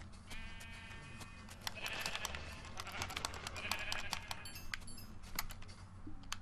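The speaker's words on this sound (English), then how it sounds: "Sheep." Repeated sheep bleats from the Minecraft video game, several calls spread across the stretch over a busy bed of clicking and tapping that resembles keyboard typing, with no speech.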